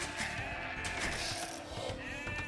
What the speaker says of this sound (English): Let's just scout with one sheep.